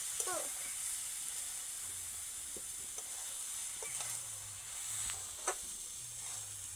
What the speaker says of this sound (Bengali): দিয়ে আর অল্প কিছুক্ষণ নাড়বো